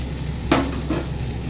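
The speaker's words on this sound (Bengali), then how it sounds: "একটু আদা রসুন দিয়ে দিলাম, ভেতো করে রেখেছিলাম এটা দিয়ে দিলাম। এটাকে একটু নাড়াচাড়া করে নিচ্ছি।" Ginger and garlic paste fry in a pan for chilli paneer, a steady sizzle broken by two short scraping stirs of a spoon against the pan.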